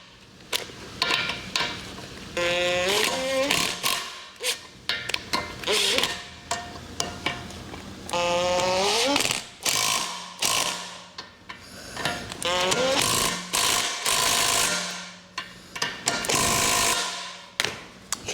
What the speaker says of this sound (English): Tighten up your jam nuts, or fork nuts rather.